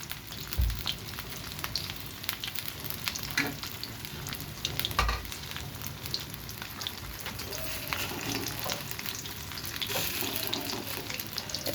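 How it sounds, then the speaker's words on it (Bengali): Taro pakoras fry in hot oil with a continuous close sizzle, joined by occasional stirring clatter and a few louder pops, with no talking. "এটা অনেকক্ষণ ধরে ভাজতে হবে"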